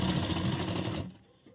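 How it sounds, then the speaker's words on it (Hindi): Sewing machine running a straight seam on a princess-cut deep-neck blouse, a steady close mechanical whirr that stops after about a second. "लेने के बाद यही सीधी सिलाई हमारी पूरे नीचे तक हमें लेके आनी है।"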